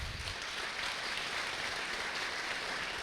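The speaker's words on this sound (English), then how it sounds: "please give the panelists a warm round of applause" Audience applause welcoming panelists at a live public debate on a travel plan in Oxford, a steady, soft wash of distant clapping that holds evenly throughout without speech.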